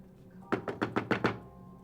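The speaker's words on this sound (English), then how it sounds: "You're knocking on the door." Knocking on a door during a Call of Cthulhu tabletop session: six quick, evenly spaced raps in a short burst, moderately close and clear over a quiet background, with no talk during the knocks.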